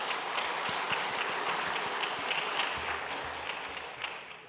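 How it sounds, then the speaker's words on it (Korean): A church congregation applauds during a Sunday worship service to encourage a bereaved family, a steady, fairly soft wash of clapping from many hands that carries evenly for several seconds and thins slightly toward the end. "잠깐 자리에 일어나 인사하실 때 우리 박수로 격려하도록 하겠습니다"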